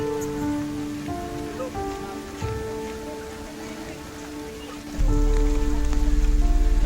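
Heavy rain pours at Sanjay Gandhi National Park, a steady wash of drops on surfaces that swells suddenly louder and rougher near the end, with a faint tonal hum underneath.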